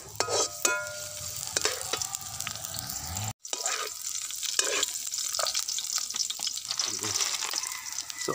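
Garlic and onion sauté in hot cooking oil, crackling and sizzling close by, with stirring scrapes and a brief cut in the middle.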